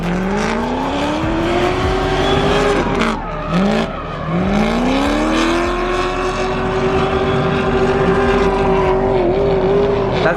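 A BMW E46 M3 with a swapped LS V8 drifts nearby, its engine screaming at high revs with sweeping pitch rises and dips as the throttle is worked, continuous and loud, with tires hissing underneath.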